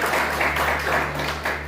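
Congregation clapping in a church service, a dense steady wash of many hands applauding through the whole stretch, with a low sustained hum underneath.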